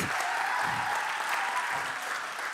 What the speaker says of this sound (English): I want to have the high energy applause, okay?